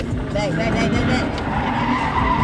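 Car tires squeal and skid while the car does donuts. The screech is loud and close, lasts a couple of seconds, and runs over the engine's roar along with some background voice.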